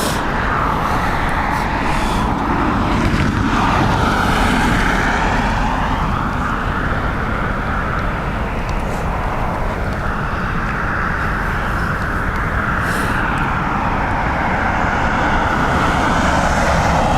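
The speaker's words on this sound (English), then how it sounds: "Graham says next, a Lufthansa from Munich." A Lufthansa airliner arriving from Munich lands at Dublin Airport in a stormy crosswind, its engine roar broad and steady, blended with heavy wind and rain noise throughout.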